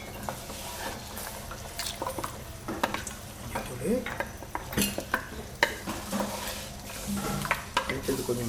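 Mutton masala sizzles in a pan while a spoon stirs and scrapes through it, giving irregular clinks and scrapes over a steady frying hiss, close and moderately loud.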